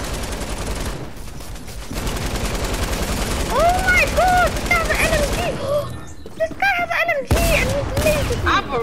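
Rapid automatic gunfire in Fortnite, loud and sustained across the clip with dense bursts and brief pauses, mixed with whistling in-game effects and voices talking over it.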